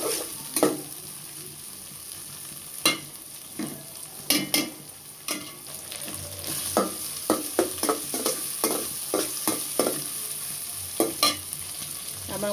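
Prawns fry with onion in oil in a pan for a gourd curry, a soft constant sizzle punctuated by frequent sharp scrapes and taps of a spatula stirring, growing busier later, with no talk.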